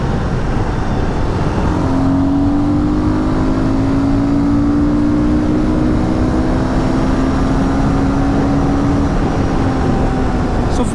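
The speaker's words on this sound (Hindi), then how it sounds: "साउंड सुनिए इनटेक की।" Royal Enfield Guerrilla 450 in performance mode pulling hard in 4th gear, its intake roar loud and steady over wind rush, with a rising engine tone climbing through the run.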